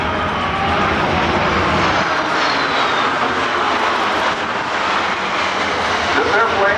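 C-17 Globemaster III military cargo jet roaring past on a high-speed airshow pass at NAS Oceana, a loud sustained broadband engine rush with a faint rising whine, steady throughout the clip.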